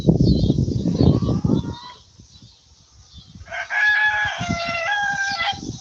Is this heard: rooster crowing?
yes